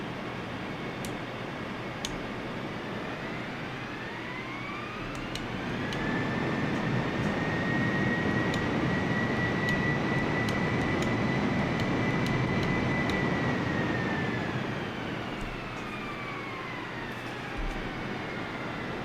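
Aircraft engine in Microsoft Flight Simulator spooling up into a loud, sustained jet whine that holds for several seconds and then winds back down, heard alone over a constant roar.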